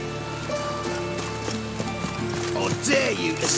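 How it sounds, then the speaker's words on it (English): Horse hooves clip-clop through steady rain in The Witcher 3 video game, with a constant patter of drops under the plodding steps, a background music bed and a brief neigh-like sound near the end. "It's raining again."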